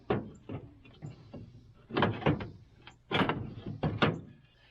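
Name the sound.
skidder door being hinged back up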